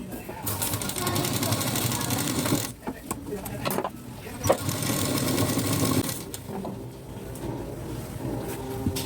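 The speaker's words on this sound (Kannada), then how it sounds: "ಇಲ್ಲಿ ಈ ಥರ ಮಾಡಿಕೊಂಡು ಅಡ್ಡಕ್ಕೆ ಸ್ಟಿಚ್ ಹಾಕಿ" A sewing machine stitches across the front panel of a Sabyasachi-style blouse, running in steady bursts with short pauses, close and fairly loud, while someone talks over it.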